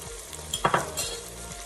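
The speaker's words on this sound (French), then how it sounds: "Je vais venir mélanger ma viande avec mon oignon, comme ceci" Veal and onion frying in a Cookeo multicooker as they are stirred together, giving a steady low sizzle with a brief burst of utensil scraping in the middle, close up and without speech.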